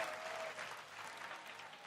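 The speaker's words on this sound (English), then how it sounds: "You got so many C9 fans cheering, celebrating this moment." Cloud9 fans cheer and applaud in an esports arena at the 2022 League of Legends World Championship group stage, a dense, steady roar of crowd noise filling the whole stretch.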